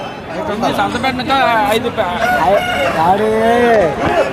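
Roosters crow and hens cluck loudly and close by at a busy country-chicken market near Anakapalli, Andhra Pradesh, amid the chatter of a crowd.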